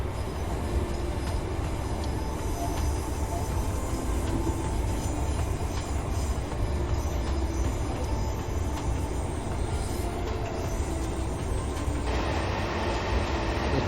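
A train in Train Sim World 2022 runs through a snowstorm on the line from Derby to Matlock, giving a steady, loud rumble with faint rail clatter that continues without pause. No one talks.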